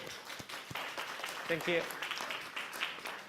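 Applause and clapping from attendees at a board meeting, moderately loud and continuous, with a voice speaking briefly over it.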